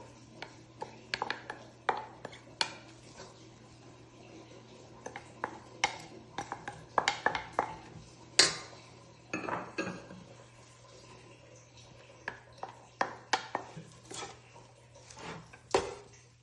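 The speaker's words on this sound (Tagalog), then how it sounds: "malamig na siya at ngayon add ko na yung vegetable" Vegetables tossed and stirred into cooled, fried samosa meat filling in a bowl, giving a steady run of sharp utensil clinks and scrapes against the dish, with quieter rustling between the louder taps.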